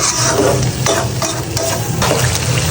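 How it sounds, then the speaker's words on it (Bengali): Chicken sautés in a pan for a home-style curry, a loud close sizzle with repeated stirring scrapes roughly every half second to second, no talking. "এদিকে আমার চিকেনটা কিন্তু কষানো হয়ে গেছে"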